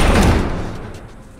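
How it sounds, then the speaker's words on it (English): A door is slammed and barricaded in The Last of Us Remastered, giving one loud, close, heavy thud that fades out over about a second, with no talk. "Barricade the door."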